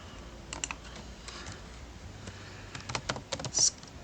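Text being typed on a computer keyboard while working in ArcGIS Pro: scattered quick clicking keystrokes in short bursts, faint at first and growing denser and louder toward the end, with no talking.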